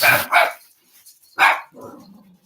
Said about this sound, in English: My dog's just barking right now